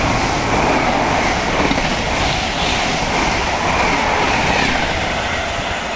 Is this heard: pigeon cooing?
no